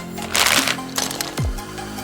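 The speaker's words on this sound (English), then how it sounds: "Hope you like opening tiny plastic bags." Tiny plastic bags of LEGO pieces are torn open. Crinkly rustling comes in two close bursts, followed by a sharp ripping sound.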